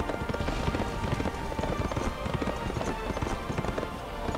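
Horse hooves clip-clop in fast, steady rhythm while a horse is ridden in the Berserk Band of the Hawk video game, close and fairly loud throughout with no talk.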